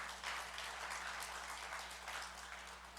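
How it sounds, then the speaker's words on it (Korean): A church congregation at a Sunday service applauding together, a steady wash of many hands clapping that carries on evenly throughout, with a low constant hum in the room beneath it. "우리 박수로 우리 격려하겠습니다"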